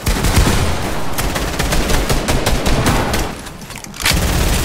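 A shooter video game fills with dense, loud gunfire, rapid overlapping shots and bursts that are nearly continuous, with a short lull before the firing resumes.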